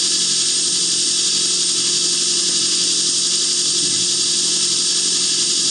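Grinder working a high-grind knife blade bevel on an H2 blade, a continuous high-pitched whining hiss with a steady tone underneath, constant and close throughout, no talking.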